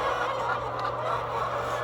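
Hens on an egg farm clucking softly in a steady, continuous murmur of fowl calls, close by and moderately loud, with a low hum underneath and no talking.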